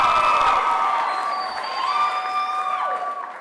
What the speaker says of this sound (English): I know that this crowd likes to cheer a lot